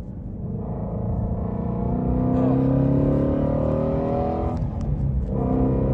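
A Ford Shelby GT350R's engine runs loud and close, a dense, throbbing roar that builds slightly and holds steady at high volume throughout.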